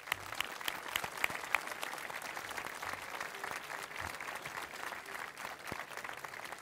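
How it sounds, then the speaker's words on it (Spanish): Crowd applause in an outdoor town plaza during an evening event, steady scattered clapping from many hands at moderate distance, fairly soft throughout. "Para ellos vamos a darle este fortísimo aplauso."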